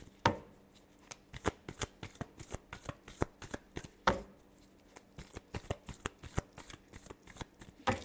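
Tarot cards being shuffled by hand, a close run of crisp riffling bursts and soft slaps repeating in an uneven rhythm for several seconds, with no voices.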